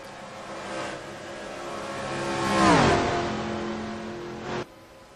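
Race cars at speed during practice at Charlotte: a distant engine roar builds, then a car sweeps past with a falling pitch and fades out, heard without talk.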